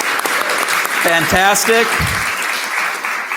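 An audience applauds panel speakers at the close of a discussion, with a steady wash of clapping running throughout while a voice speaks briefly over it.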